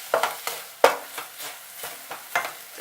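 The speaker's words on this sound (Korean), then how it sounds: "한 큰술 정도의 물만 부어서 양파에 색을 입혀주시고요." Onions cooking in a pan with a spoonful of water added, stirred in repeated scraping strokes with sizzling between them, several distinct spoon sweeps close by with no talk.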